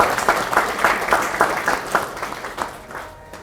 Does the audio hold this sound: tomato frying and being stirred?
no